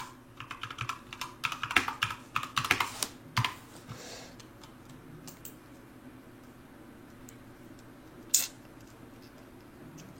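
Rapid bursts of typing on a computer keyboard, clustered clicks in the first few seconds, then a quiet pause and a single later keystroke, close and fairly soft with no talk.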